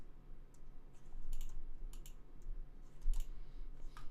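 Someone types on a new computer keyboard in a home music studio, producing quick, irregular clusters of crisp key clicks at close range, with no talking.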